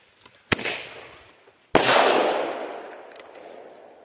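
A Flashing Thunder Vulcan single-shot firework goes off with a sharp launch pop. About a second later comes a louder burst, followed by a long, fading crackling hiss, with no voices.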